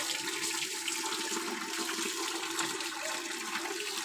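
Water runs steadily and close by throughout a home bath, a continuous broadband rush with no gaps and no talking over it.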